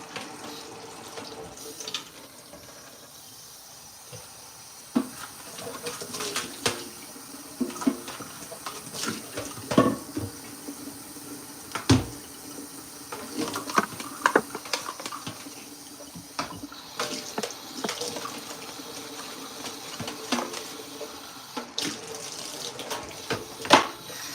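Tap water runs steadily into a sink while a coffee grinder is cleaned at home, with intermittent clinks and splashes over the flow and no talking.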